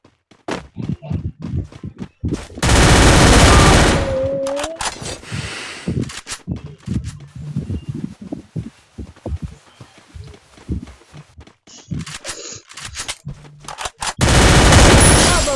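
Bursts of automatic gunfire in a shooter video game, two long loud sustained volleys at the start and end with scattered single shots, footsteps and game effects between, close and dominant.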